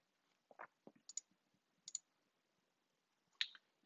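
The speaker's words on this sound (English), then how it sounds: "So, literally, I am just clicking around" Computer mouse clicks come in small sparse bursts, faint and close, during photo editing in Photoshop with quiet gaps between them and no voice.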